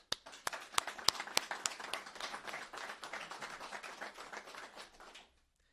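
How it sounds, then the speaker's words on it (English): An audience at a live special announcement event in Nashville breaks into a round of applause, with several sharp individual claps up front swelling into steady clapping that holds for about five seconds before cutting off. "So if you guys give a round of applause for Steve."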